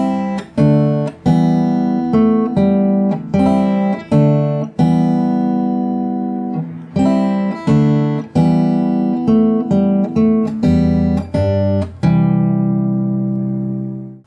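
Fingerstyle acoustic guitar plays the verse of a song, steady plucked bass notes under picked chord tones in an even, flowing rhythm, close and fairly loud with no voices, the last chord ringing out.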